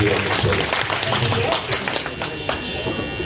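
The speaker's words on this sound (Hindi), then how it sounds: "मुख्य कोऑर्डिनेटर भाई विकास जी का भी मैं चाहूंगा जोरदार ताली से।" An audience at a political meeting claps in a brisk, uneven patter, with voices mixed in over the applause.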